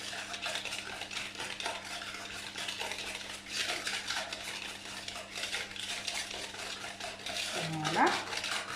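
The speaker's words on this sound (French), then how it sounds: "on mélange bien pour avoir une pâte homogène et bien lisse" Egg being mixed into chocolate-chip cookie dough in a bowl, faint continuous stirring and scraping with a few light clinks of utensil against the bowl, quiet throughout.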